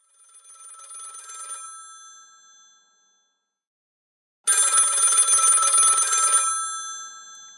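A telephone bell rings loudly in two bursts, a shorter ring fading out and then, after a gap of silence, a longer and louder ring, with no voices.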